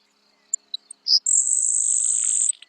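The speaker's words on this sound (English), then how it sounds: "that song was the Grasshopper Sparrow" A Grasshopper Sparrow's song: a thin, high insect-like buzzy trill sustained for over a second, preceded by a few brief high chips, heard clearly and alone.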